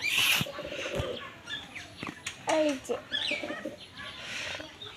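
A baby pigeon at home gives soft cooing and chirping calls amid quiet background sounds, while people talk nearby.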